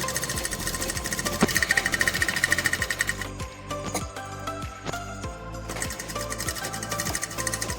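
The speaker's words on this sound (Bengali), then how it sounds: "এই দিকটাও সেলাই করে দিচ্ছি, দুদিকের মুখে সেলাই করে নেবো।" A domestic sewing machine stitches the edges of a pillow cover, its needle hammering in a fast, steady mechanical rhythm. It runs loud and close throughout, with a brief change in tone partway through and no talking.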